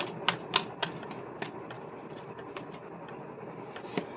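Tarot cards being shuffled by hand at close range: a run of quiet, crisp papery snaps and flicks at irregular intervals over a soft steady background, with no speech.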